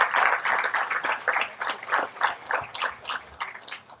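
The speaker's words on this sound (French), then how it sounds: "Alors s'il vous plaît, applaudissez ces femmes pour tout ce qu'ils font pour ce pays." Audience applause honouring women researchers at a Moroccan diabetes league event, steady broadband clapping from a crowd lasting about four seconds at moderate level, with no speech over it.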